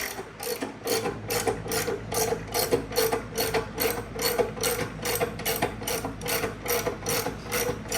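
Stark USA transmission jack being pumped by its ratchet mechanism to raise a transmission, a close, steady run of rapid clicking repeating in even strokes with nothing else over it.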